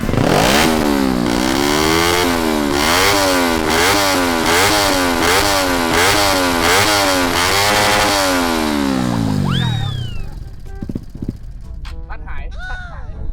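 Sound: motorcycle engine revving

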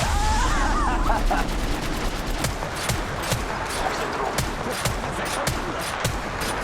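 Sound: gunfire in the video game Apex Legends Mobile

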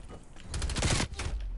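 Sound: AK rifle gunfire in a video game

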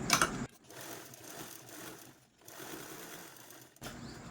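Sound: sewing machine stitching a double line over a blouse cross-strip

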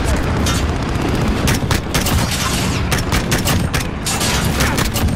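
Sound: gunfire in a video game

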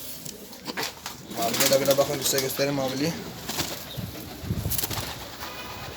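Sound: pigeons cooing and flapping in a pigeon loft

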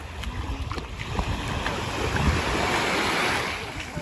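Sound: ocean waves at the beach

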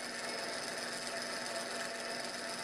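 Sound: small gear motor turning a hand-held aluminum spur gear

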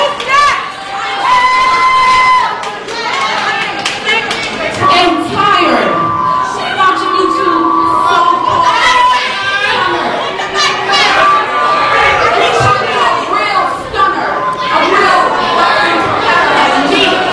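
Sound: wrestling crowd and children screaming

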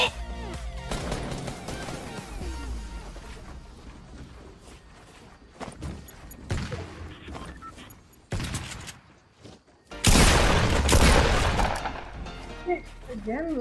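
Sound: gunfire in the video game Fortnite

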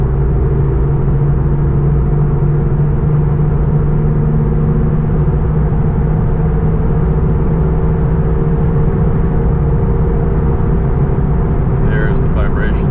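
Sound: car driving at 90 mph with wheel vibration

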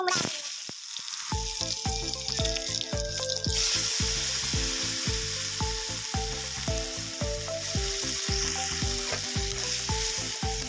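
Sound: dried chillies and panch phoron spices sizzling in hot oil

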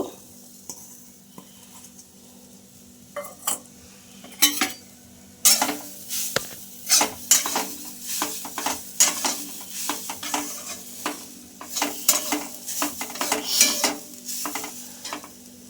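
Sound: grated coconut stirred in a wok on the gas stove

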